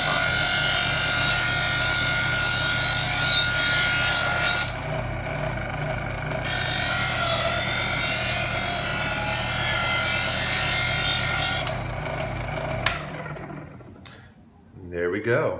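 A kitchen knife is drawn through the polishing stage of a knife sharpener in a steady, close rasping rub that repeats with short pauses between strokes, then tails off into quieter handling.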